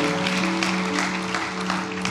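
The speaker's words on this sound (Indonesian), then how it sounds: "Berikan tepuk tangan buat Tuhan Yesus." Congregation in a church clapping for Jesus during a sermon, a steady broadband patter of many hands over sustained tonal music underneath, moderately loud and continuous throughout.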